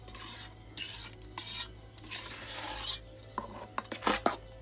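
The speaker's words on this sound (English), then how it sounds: "I'm just gonna continue to fold them in, fold it in here." A spatula folds bacon, cheese and green onions into whole-wheat savory waffle batter in a bowl, making soft wet scraping and squelching strokes in an irregular rhythm, close and fairly quiet, with a few sharper taps at the end.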